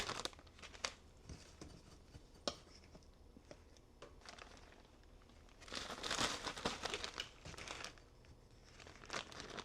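Pork rind crumbs are spooned into a plastic bag with crinkling and rustling of the plastic, scattered crisp taps early on and a louder burst of crumpling near the end, close and quiet.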